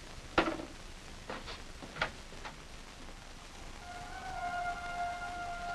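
An ambulance siren in 1950s Paris sounds as a faint, steady wail that comes in toward the end, after a few sharp knocks and taps, over a low background hiss.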